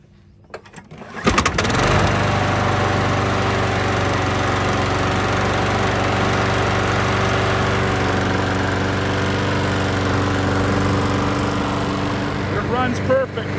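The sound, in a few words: Troy-Bilt lawn mower engine starting and running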